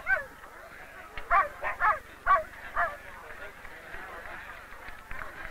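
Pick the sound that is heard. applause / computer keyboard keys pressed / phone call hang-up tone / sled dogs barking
sled dogs barking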